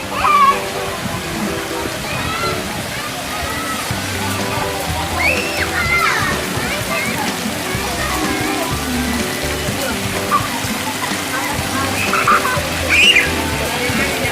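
Splashing water and spray at the Amanzi water park swimming pool in Palembang, a steady watery wash with brief louder bursts, heard close up under children's and adults' voices.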